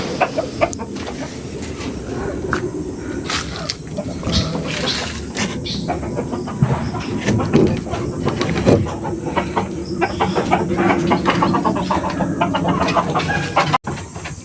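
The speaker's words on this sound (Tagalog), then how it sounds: "tapos na po natin pinakain yung mga manok dito" A flock of chickens being fed clucks and squawks continuously at moderate distance, with scattered scratching and clattering noises mixed in.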